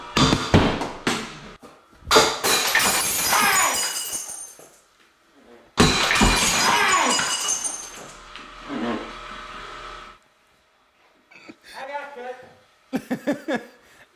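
A baseball from a pitching machine shatters glass indoors in a house, a loud crash with scattered tinkling debris, amid excited shouting and talk from several young people, followed by further sharp clinks and laughter.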